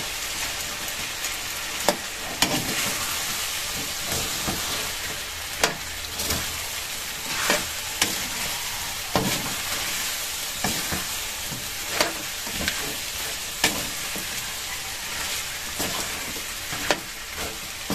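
Potatoes sizzle in hot oil in a pan while cooking chicken adobo, a constant fry hiss broken by regular scraping taps of the stirring utensil, close and steady, without talk.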